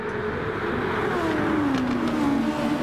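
Formula-style race car in Gran Turismo Sport pulling out of the pits at Bathurst, a steady engine drone with pitch sliding downward as it moves off, loud and continuous with no talk.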